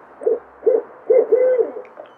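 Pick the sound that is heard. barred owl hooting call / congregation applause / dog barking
barred owl hooting call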